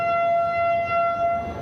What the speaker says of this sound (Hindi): सायरन बजा है